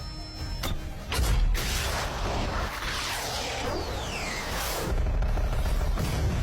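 Missile fired from a fighter jet after a lock-on, a rising whoosh and rumble with a brief launch burst, sustained loud roar throughout.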